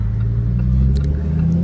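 A rear-wheel-drive Lamborghini idles close by, its engine giving a loud, steady low rumble with a faint high whine, no talk over it.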